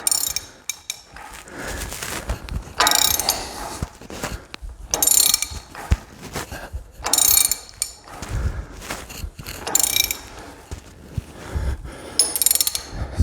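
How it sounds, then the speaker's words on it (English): Hammering on the crimped locking collar of a lock nut on a 25-foot man-lift hydraulic cylinder, giving a series of sharp metallic knocks and clanks in uneven bursts, close and fairly loud, with no talking. "So that's where I'm hitting that locking mechanism right now on the nut."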